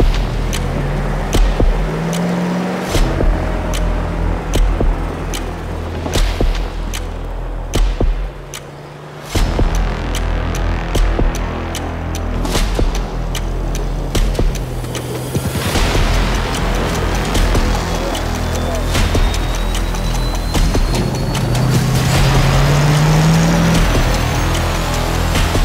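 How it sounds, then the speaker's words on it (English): Heavy truck in Yakutia grinding and crashing through thick frozen river ice, with a loud, continuous engine roar and repeated cracking impacts and booms running throughout. "Break the ice with a truck!"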